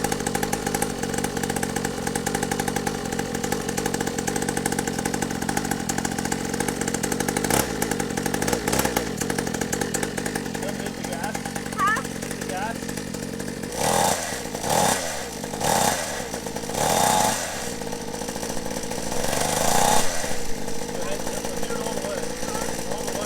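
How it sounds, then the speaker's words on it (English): A small 50cc SYX Moto Holeshot dirt bike engine idles unevenly nearby, its buzzy putter surging and dipping, with a few sharper revs and voices talking over it. "We'll leave it on there and see if we can't get it idling good"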